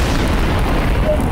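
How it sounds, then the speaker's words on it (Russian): Bomb explosion inside the Garry's Mod video game, a loud continuous low rumbling boom that fills the whole moment with dense broadband energy and no clear separate hits. "Так, пацаны, все, сейчас будет взрыв"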